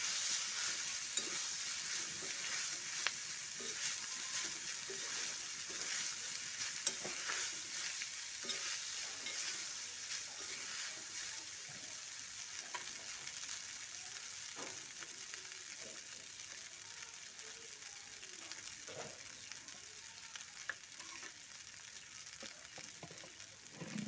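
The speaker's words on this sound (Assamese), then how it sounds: "গোটেইখিনি ভালদৰে মিক্স কৰি ল'ম আৰু মই ইয়াত গোটেইখিনি পাস্তা দি ল'ম।" Pasta being stirred and fried in masala in a pan, a continuous soft sizzle with frequent light scraping ticks from the spoon, steady and close throughout, no voices.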